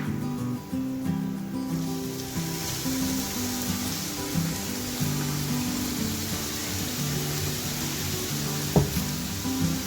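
Finely chopped onions drop into a hot pan and sizzle loudly and continuously, with a crackling frying hiss and an occasional scrape of stirring, all close up.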